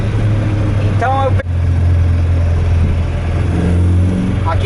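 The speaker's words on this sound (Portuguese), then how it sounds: "o motor estar bastante desregulado, com muito excesso, então quando a gente acelera ele vai" A badly tuned engine in a 1972 Alfa Romeo GTV drones steadily at close range and climbs slightly near the end, with a person talking over it.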